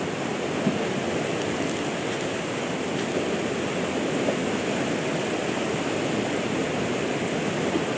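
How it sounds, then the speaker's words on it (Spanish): Continuous dense roar of storm floodwater rushing down the Río Grande ravine at Monte Patria in the Coquimbo region, a steady broadband wash with no pauses and no voices. "La quebrada de Río Grande."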